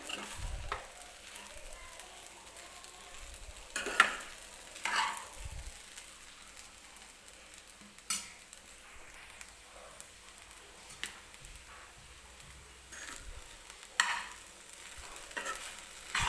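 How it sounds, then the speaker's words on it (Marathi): Sabudana (sago) khichdi stir-fried in a pan, with a soft continuous sizzle broken by repeated scraping stirs at an irregular pace, close up and without talking. "त्यासाठी मी 2-3 मिनटं व्यवस्थित ही खिचडी अशीच परतून घेणार आहे"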